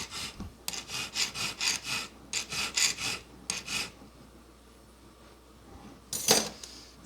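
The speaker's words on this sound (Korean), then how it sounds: "네 면을 줄줄로 잡습니다" Metal file rasping back and forth on a small square precious-metal diamond setting frame, a run of quick even strokes in close bursts, then a pause and one last stroke.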